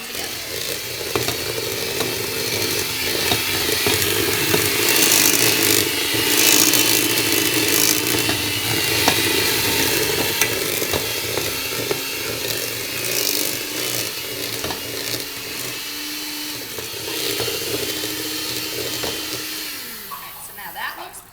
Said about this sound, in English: We're going to go ahead and mix this all together.